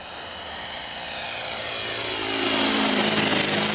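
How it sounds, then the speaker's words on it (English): Pietenpol Air Camper model plane with an ASP 5cc four-stroke engine making a slow low flyby, its buzzing engine drone growing steadily louder as it approaches. "Another slow flyby, and then I'm going to land the plane."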